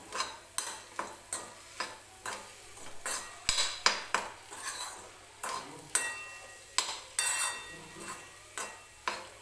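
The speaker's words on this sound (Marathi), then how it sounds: "मी याच्यामध्ये कट केलेली कोथिंबीर टाकते आणि परत एकदा छान मिक्स करून घेऊया आपण" Potato and chopped coriander are stirred in a pan with a metal spoon, giving a steady series of sharp clinks and scrapes about once a second over a faint sizzle.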